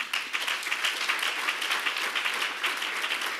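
Congregation applause fills a church service, a dense, steady round of many hands clapping that holds at an even level without a break.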